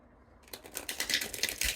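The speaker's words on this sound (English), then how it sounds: "Let's go ahead and shuffle one more time here for you." A deck of cards riffle-shuffled close by, a quick burst of dense fluttering clicks after a brief quiet start.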